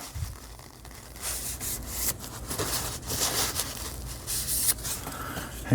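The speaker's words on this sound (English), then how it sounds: "And then I wipe down the blade here." A paper towel wiped along a D2 tool steel knife blade, producing soft irregular rubbing and swishing strokes with faint crinkles, close up and quiet, with no talking.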